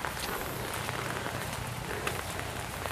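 Steady rain falls over a rural village, a dense even patter on surfaces with scattered nearer drips, moderately soft and unbroken throughout.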